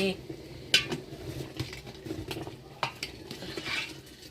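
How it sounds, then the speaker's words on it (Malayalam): A spoon stirs a pot of boiling rice on a lit stove, making clinks and scrapes against the metal pot over a low bubbling background, with several sharper knocks spread across the stir. "ഇത് തിളച്ചു നമുക്കൊന്ന് ഇളക്കാം"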